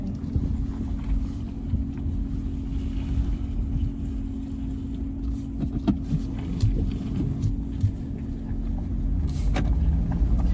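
Car driving along a street, a steady low engine and road rumble from inside the cabin with a faint hum and occasional small rattles, no talking.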